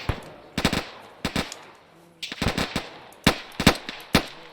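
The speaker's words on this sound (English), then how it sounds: "we're getting shot at" Gunfire in the video game Arma 3, a military-sim firefight: sharp shots crack out singly and in tight bursts of two or three, irregularly spaced and fairly close, with no talking over them.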